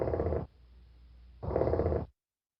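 Two low, rolling purr calls from a sandhill crane, each about half a second to a second long, separated by a short pause and heard clearly without talk.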